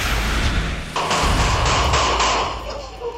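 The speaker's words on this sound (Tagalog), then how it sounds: "Binulamog ng sunod-sunod na putok ng baril ang bahaging ito ng barangay Graceville" Gunshots on a street in San Jose del Monte, Bulacan, picked up on CCTV: a series of sharp, booming bangs in quick succession, loud and echoing, followed by fading reverberation.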